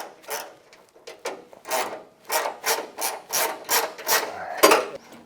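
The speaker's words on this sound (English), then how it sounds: "I'm going to just use this little ratchet spanner, there we go, and just do it up." A small ratchet spanner tightening bolts on a drop-down camping table bracket, giving about a dozen rhythmic rasping clicks in quick back-and-forth strokes, close and fairly loud.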